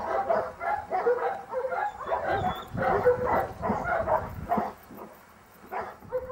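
A police dog barks and yips in rapid, repeated bursts, loud and close, with whimpering tones between barks, continuing steadily before a brief pause near the end.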